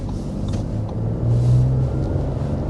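A 2024 Audi Q7's 3-liter turbo V6 running, a smooth, low, steady engine rumble that swells slightly midway, heard alone without speech.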